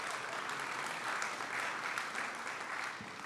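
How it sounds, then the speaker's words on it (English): A conference audience at a Sonoma County forest conservation gathering gives a round of applause for event sponsors, soft and distant-sounding, a steady patter of clapping that holds evenly. "And so a round of applause to all those great sponsors."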